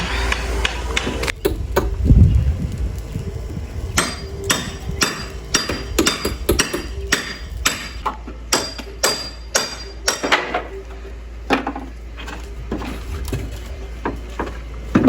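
Hammering and nail-pulling on a temporary gate, a run of sharp, irregular knocks and clinks at close range with steady background noise, no talk.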